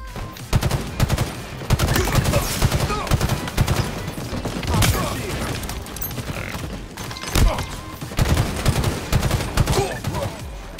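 Dense gunfire in the shooter video game Halo Infinite: rapid overlapping weapon bursts and impacts with mechanical clanks fill the whole stretch, loud and continuous, with brief pauses between volleys.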